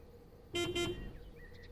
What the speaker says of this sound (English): Ooh, we've got a steam tram.